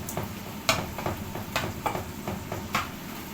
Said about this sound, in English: So the fat's rendering off this right now, which is pretty cool